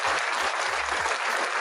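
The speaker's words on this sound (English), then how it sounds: "Grant Cohn gets a round of applause" A short burst of canned applause on a sports talk show, dense steady clapping up close, with low bumps beneath it and no talk.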